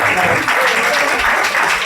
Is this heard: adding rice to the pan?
no